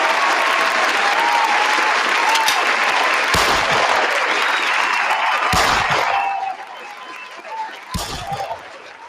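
Audience applause fills the room, a dense sustained wash of hand claps that fades partway through, broken by a few sharp, loud bursts that stand out from the crowd.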